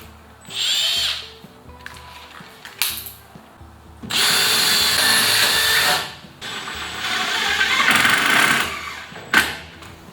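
A power drill bores a 4 mm pilot hole into a wooden batten while shelves are fitted in a workshop, with several separate loud whirring bursts of rising and falling motor pitch and short pauses between them.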